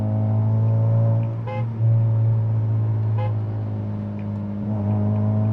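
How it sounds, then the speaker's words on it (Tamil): Steady engine drone of a Honda Civic cruising in third gear on a highway, a low continuous hum with road noise, joined twice by short horn-like toots from nearby traffic. "3rd gearல் இருக்க வண்டி."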